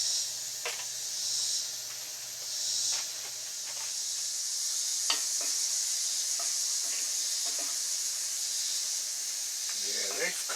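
Buffalo chicken browns in a skillet at a basecamp cookout, giving a steady, moderate sizzle and hiss with scattered small pops and crackles throughout.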